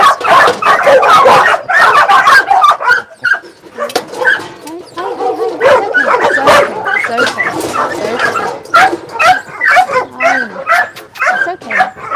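Many dogs bark, yip and whimper nearly nonstop on a South Korean dog meat farm, a loud close chorus of overlapping calls with a few quieter gaps.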